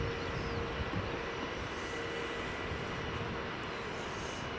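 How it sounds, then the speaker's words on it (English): A Mitsubishi Challenger private jet arrives at Manchester Airport, heard as a steady, fairly distant engine roar and rumble with no breaks. "This is in from Paris, only 14 years old, and it is a Mitsubishi Challenger"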